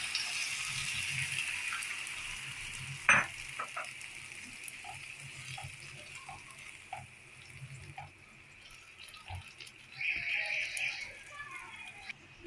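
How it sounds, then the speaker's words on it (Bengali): Water goes into a pan of frying okra for a spicy bhindi dish, and a soft, steady sizzle runs throughout, with faint clicks and splashes, a sharp tap near the start and a brighter hiss later on. "এখন আমি জলটা দিয়ে দিচ্ছি"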